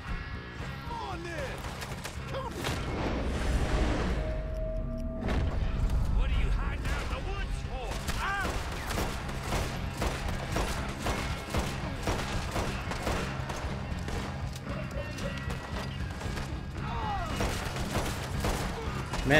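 Gunfire in a Red Dead Redemption 2 shootout against O'Driscolls, dense rapid shots and cracks one after another, loud and continuous under game music and a player's speech.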